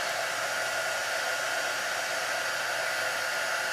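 A heat gun shrinks heat-shrink tubing over wires. It gives a steady, even blowing hiss at close range with no talking.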